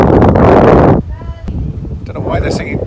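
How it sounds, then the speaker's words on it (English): A loud roar of wind buffeting the microphone for about a second, then quieter gusts and background noise with faint voices, outdoors at a campsite in Devon. "A bit windy."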